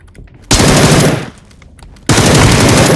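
Automatic gunfire in the PUBG Battlegrounds video game, two loud sustained bursts close up, separated by a brief quieter pause with scattered distant shots.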